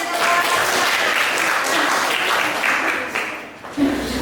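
A classroom audience claps steadily after a group presentation, a dense, loud wash of hands that fades toward the end before a short bump of noise.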